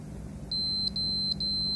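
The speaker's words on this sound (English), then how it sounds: "as I said, it's still beeping" A PS4 Pro console connected to power gives short, thin electronic beeps, faint over a low hum, in spaced pairs.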